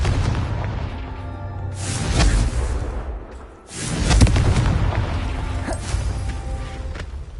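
Confringo fire spell explosions in the video game Hogwarts Legacy, two loud booming blasts with a whooshing burst and rumbling decay, close and heavy, with a short lull between them.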